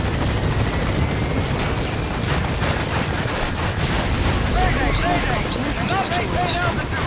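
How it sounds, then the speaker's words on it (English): A helicopter in the video game Metal Gear Solid V: The Phantom Pain is shot down: a loud, continuous rotor roar and engine drone fill the scene, with sharp clattering hits and chaotic radio-style voices shouting over it. "We shot down the chopper."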